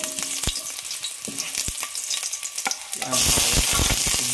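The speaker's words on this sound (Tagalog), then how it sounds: "Ayan, may sibuyas at bawang po kami dyan. Bali gigisa muna tayo mga kuragon." Onion and garlic sautéing in a pan for a Filipino gisa, with scattered utensil taps over a light sizzle that jumps to a loud, steady hiss as the aromatics hit the hot oil.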